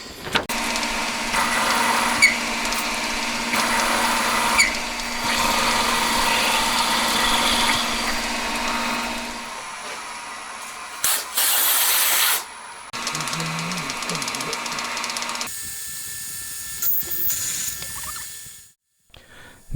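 An end mill cuts counterbores in a handmade motorcycle cylinder head, a steady loud machining whine and hiss running most of the time, with brief pauses and shifts in tone.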